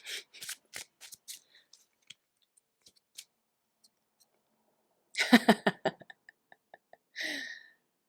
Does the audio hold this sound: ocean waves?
no